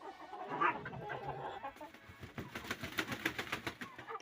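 Chickens cluck and chatter in a rapid, busy flurry, fairly faint with background noise.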